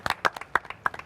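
A short burst of several sharp, separate hand claps in an uneven rhythm, close and fairly clear, with no talk over them.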